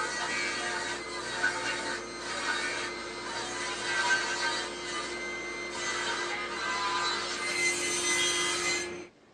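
Steady rasping saw cutting through wooden pieces for furniture legs, a continuous close, fairly loud stroke noise with a low hum beneath, the sawing dropping away just before the end.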